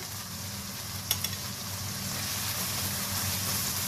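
Spices and paprika fry steadily in a pan for fish curry, giving a continuous close sizzle with a few brief clicks of a utensil partway through.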